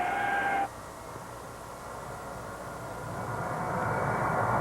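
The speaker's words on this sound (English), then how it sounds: "the C-5 Galaxy is the free world's largest military cargo carrier" A Lockheed C-5 Galaxy military cargo aircraft roars with a steady, broadband engine rumble that swells slightly louder toward the end, with no voices.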